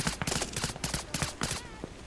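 Rapid bursts of automatic gunfire in Call of Duty Vanguard on the Gavutu map, several short volleys in quick succession, loud and close, with little talk.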